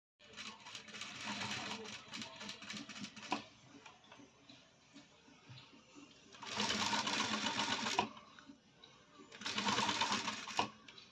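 A sewing machine stitches piping onto a low-neck princess-cut blouse, running in a long quiet burst and then two louder, faster runs, with ticking between them and faint talk underneath.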